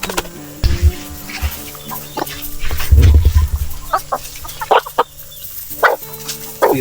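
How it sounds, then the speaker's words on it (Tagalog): Farm chickens cluck and stir around a person feeding them ripe papaya, with scattered close clucks, a few wing flaps and brief low thumps, moderately loud. "Ito yung aking pasalubong sa ating mga alaga. Gustong-gusto nila yung hinog na papaya."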